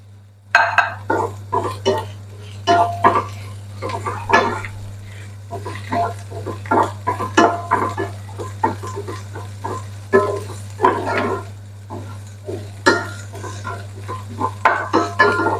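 A spoon scrapes and clacks in a pan as okra fry is tossed with coriander, rhythmic stirring strokes close by over a steady low hum, with no talking.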